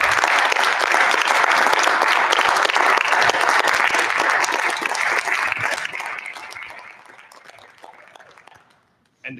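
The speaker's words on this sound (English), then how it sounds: "We could stand up and give them a round of applause." A round of applause fills the room at a school board of education meeting, loud and sustained for several seconds before fading out and stopping.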